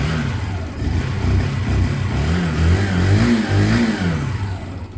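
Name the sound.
Zontes Mantis cruiser 125 motorcycle engine running and revving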